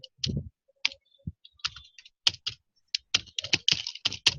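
Someone types on a computer keyboard while writing HTML code: irregular bursts of close, crisp key clicks and taps with short pauses between, no voices.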